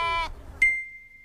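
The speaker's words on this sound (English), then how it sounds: "Look. Sheep." A single sheep bleats with a wavering, harmonic-rich cry lasting about a quarter second, followed by a sharp high electronic beep that rings on steadily, with no talking.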